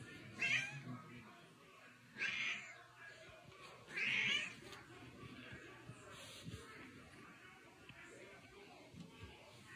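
A cat meows three times in short, plaintive calls spaced about two seconds apart, fairly faint, over quiet indoor shuffling.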